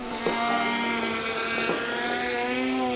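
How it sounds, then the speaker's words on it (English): Steady droning buzz of 13x4 propellers spinning at high speed on an E-flite Twin Timber 1.6m twin-engine RC plane, close and loud, with a constant tone that slightly rises and wavers. "can't hear you over the sound of these 13x4 props on a twin timber"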